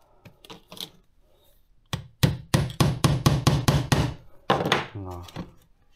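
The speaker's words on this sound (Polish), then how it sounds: "za punktak posłuży mi taki, no, większy wkręt" A large screw used as a center punch is hammered to mark a hole for mounting a fishing rod holder on an inflatable pontoon boat: a few light taps, then a fast run of about ten sharp, close strikes.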